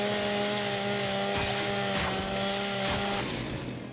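Lancer chainsaw bayonet revving in Gears 5, a loud continuous motor drone with steady tonal whine and rough grinding pulses, fading slightly at the end.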